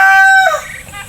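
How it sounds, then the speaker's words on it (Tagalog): A white chicken crows loudly and close on a farm, the high drawn-out call breaking off after half a second into rougher, noisier squawking. "Mga puting manok."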